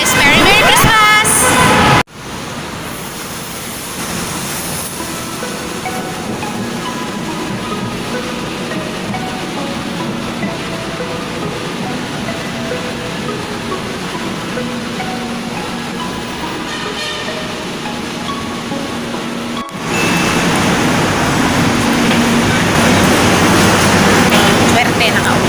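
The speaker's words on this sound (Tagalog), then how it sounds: "Dito ako sa MRT station. Mag-MRT ako para mabilis." Riding a Manila MRT commuter train: a steady rumbling rail drone with faint rhythmic clatter, loud and continuous from inside the car, with a brief break near the start and a louder surge toward the end.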